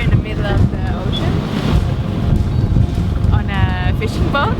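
Ocean waves and strong wind buffet a fishing boat near Quan Lan Island, Ha Long Bay, a loud continuous roar with wind gusting on the microphone, while people talk over it.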